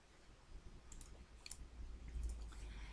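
Faint mouse clicks as an OK button is pressed in a computer program, a few quick soft taps over quiet room noise.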